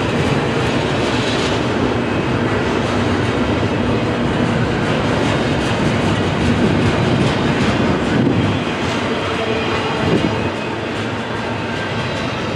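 The tail end of Norfolk Southern freight train NS 11Z rolls past close by, a loud continuous roar of railcars with clickety-clack wheel noise and faint squeal, steady throughout with no talk.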